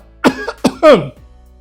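A single male cough with a throat-clearing quality, close and fairly loud, in two short bursts followed by a rougher vocal rasp, during a Hindi story narration.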